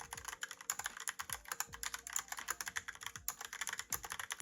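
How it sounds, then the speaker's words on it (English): Rapid, crisp typing on a Logitech POP Keys keyboard, many clicky keystrokes in an irregular rhythm, close and clear, with no voices. "The keyboard I'm using is the Logitech PopKeys keyboard"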